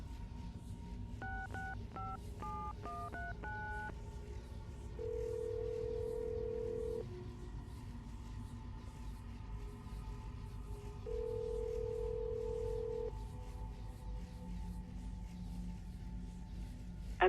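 Telephone dialing inside Assassin's Creed Brotherhood: a quick run of about eight keypad tones near the start, then long steady ringback beeps at intervals over a low hum, with no talking.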